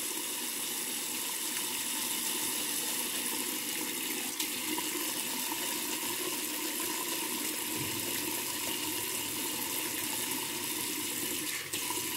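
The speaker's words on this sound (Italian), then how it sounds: "aggiungendo ovviamente acqua" Water runs steadily from a tap while a shaving brush is lathered, a continuous, even hiss and splash at moderate volume with no speech.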